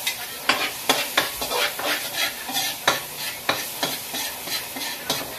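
Garlic sautéing in oil in a pan, a soft sizzle broken by a rhythmic series of sharp spatula scrapes and taps, close by and evenly paced.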